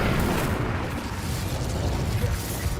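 Fiery Incendio spell blasts in Hogwarts Legacy, a dense, continuous roar of booming bursts and rumbling fire with no clear gaps, loud and close throughout.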